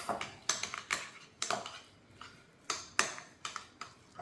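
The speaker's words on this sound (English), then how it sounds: "Once I stir it in, I'm going to taste it again" A spoon clinks and scrapes against a bowl while deviled egg filling is stirred, giving a run of sharp, close taps and scrapes in uneven bursts, with no talking.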